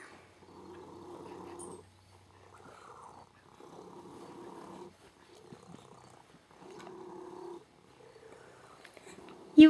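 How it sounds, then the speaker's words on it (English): A cat purrs close by in long rhythmic rumbling phrases separated by short pauses, with a sharp louder noise at the very end. "I know it's a cat"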